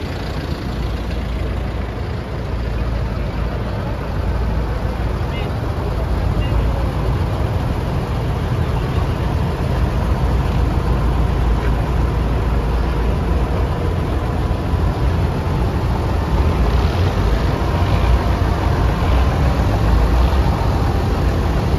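Many tractors, around 220, idle together at a Swiss farmers' vigil in Eschenbach, a loud, dense, continuous low rumble that holds steady throughout with no clear speech.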